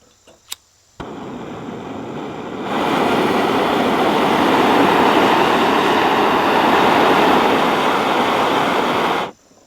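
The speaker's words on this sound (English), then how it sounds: "As you all can tell, this is a very loud stove system." A FireMaple QuickBoil camping stove burning loudly, a click and ignition giving way to a steady, powerful roaring hiss that holds evenly for several seconds before cutting off abruptly, close and with no voices.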